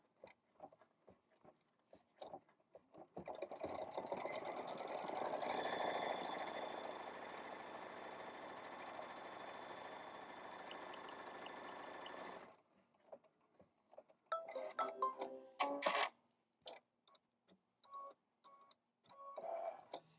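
A sewing machine tacks down fabric while stitching a hexagon block, running loud and steady for about seven seconds, then stopping, followed by scattered clicks and handling noises, no voices.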